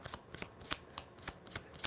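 Tarot cards being shuffled by hand in quick, irregular bursts of crisp riffling and slapping, close and fairly quiet, with no talking.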